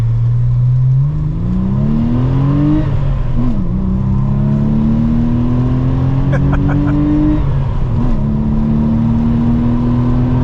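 An air-cooled Porsche engine revs up through the gears, rising in pitch with brief dips at each shift, a loud, throaty intake-heavy roar close by.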